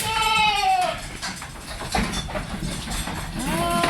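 Goats bleat loudly at the start and again near the end, wavering calls with a muffled rustle and faint movement in between.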